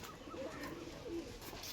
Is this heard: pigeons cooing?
yes